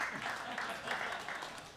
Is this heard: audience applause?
yes